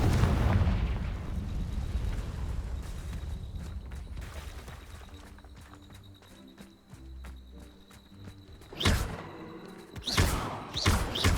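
Spell explosions from the Hogwarts Legacy video game, including the fiery Confringo blast, burst out as loud rumbling booms with crackling debris, with a couple of sharper detonations close together near the end.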